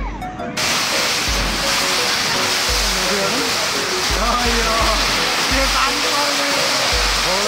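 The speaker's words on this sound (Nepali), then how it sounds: "2 मिनट जति पर्यो तर बौला तरिकाले पर्यो यार पानी" Heavy monsoon-season downpour at Kolpur near Satkhaluwa Lake in Bardiya, a dense, steady roar of rain throughout, loud and close, with a voice briefly audible under it.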